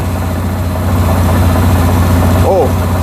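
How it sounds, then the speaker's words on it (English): A Yamaha Grizzly ATV engine idles with a steady, low, close rumble and a constant drone, running evenly throughout, with a brief faint chirp near the end. "So with the bike idling"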